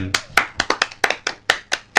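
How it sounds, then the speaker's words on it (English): Audience applause in an overdubbed comedy studio setting: about nine separate sharp clap bursts, loud and close, each quickly decaying in a rapid uneven rhythm. "We'll double this applause over so it sounds like this."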